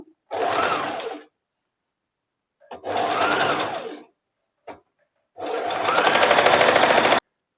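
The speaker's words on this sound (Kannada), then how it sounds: "ಪೀಕೋಗೆ ನನ್ನ ಮಿಷಿನಲ್ಲಿ ಆಲ್ರೆಡಿ ಸೆಟ್ಟಿಂಗ್ ಇದೆ ಅದು ಹಾಗಾಗಿ ಇದರಲ್ಲೇ ಪೀಕೋ ಮಾಡ್ಕೊತೀನಿ" A sewing machine stitches a picot edge on a saree in three separate runs, each a steady mechanical whir. The last run is the longest and loudest.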